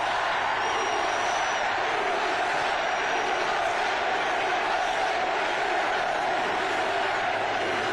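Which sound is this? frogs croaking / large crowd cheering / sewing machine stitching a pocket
large crowd cheering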